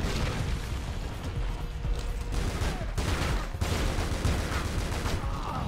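A submachine gun fires in Tomb Raider: Legend, a dense and steady rattle of shots that runs nearly continuously with only brief dips.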